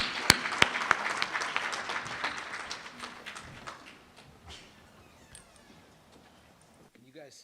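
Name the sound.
audience applause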